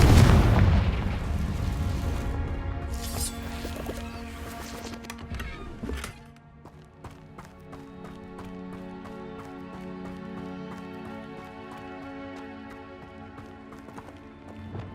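Hogwarts Legacy spell blasts, Bombarda and Confringo, open with a loud explosive burst that fades into a thinner second impact, then settles into quieter game music and ambience.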